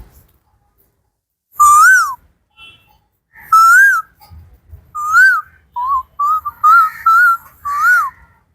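A person whistles an imitation of a koel's call: a series of loud, rising-and-falling whistled notes in separate bursts, the later ones coming faster and closer together, close to the mic in otherwise quiet surroundings.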